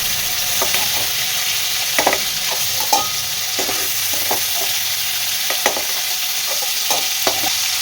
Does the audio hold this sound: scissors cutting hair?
no